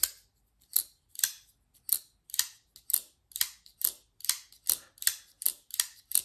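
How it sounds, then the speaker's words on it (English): Sharp metallic snaps of a Kizer aluminum folding knife blade flicked open and shut, repeated many times at a quickening pace, close and crisp with quiet gaps between. "For aluminum knives, sometimes it's more of a duller sound, but on both the open and the close"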